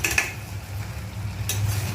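Chicken being stirred and turned over in a pan as it cooks in its own juices, soft scraping strokes over a low sizzle, close and brief, with a couple of sharper utensil clinks.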